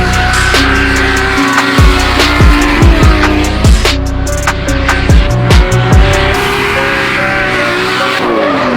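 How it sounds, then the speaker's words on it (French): Nissan 200SX drift car with a turbocharged RB25 inline-six at a French drift championship round at Croix-en-Ternois, engine screaming loud and close with repeated revving gear shifts and tire squeal throughout. "Ma voiture Nissan 200SX 1613 avec un RB25, donc un 6 cylindres en ligne turbo de Nissan Skyline."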